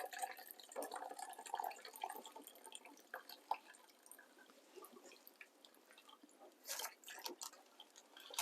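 Pan juices from Pilsner pork chops poured into a dish, faint close dripping and trickling liquid with small splashes and clinks, no talking.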